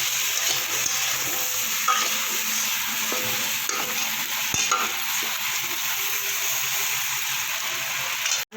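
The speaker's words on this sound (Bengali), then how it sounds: "একটা লবণ দেবো একটু হলুদ দিয়ে আলুটা আমি একটু লাল করে ভেজে নেবো" Potato pieces sizzle steadily in hot oil with salt and turmeric while a Bhola fish curry is being prepared. The frying hiss is even and continuous throughout, with faint stirring clinks and no talking.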